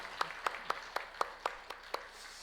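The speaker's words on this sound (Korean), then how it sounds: "하나님께 영광과 박수 올려드립니다" A church congregation at a Korean Sunday morning worship service claps in unison, seven crisp, evenly spaced beats in steady rhythm, faint and distant-sounding.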